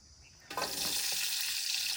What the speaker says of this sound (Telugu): ఆయిల్ కాస్త వేడెక్కాక మనం ముందుగా తరిగి పెట్టుకున్న ఆనియన్స్ని ఇందులో కలుపుకోవాలి